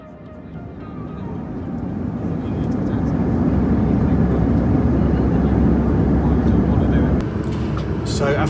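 An EasyJet Airbus A319 cruises from Gatwick to Edinburgh, its cabin filled with a loud, steady engine and airflow roar that swells slightly and then holds level throughout.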